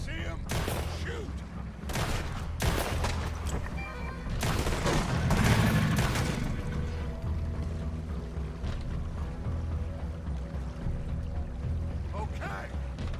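Gunfire erupts in a Red Dead Redemption 2 shootout: several loud, sharp bursts of shots crack in quick succession, then fade into a quieter background, with people shouting and talking over the fight.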